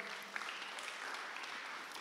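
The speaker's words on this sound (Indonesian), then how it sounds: "Berikan tepuk tangan kita." Applause from a church service congregation, a dense steady patter of many hands clapping for a couple of seconds at moderate distance.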